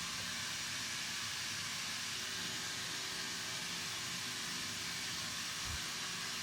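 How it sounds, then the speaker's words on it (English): Aerosol hairspray is sprayed onto slicked-back hair after a mid skin fade haircut, making a continuous close hiss that holds steady for the whole stretch, with no one talking. "So here I use the hairspray to hold his hairstyle"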